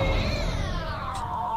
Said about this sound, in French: Je crois que c'est mon chat.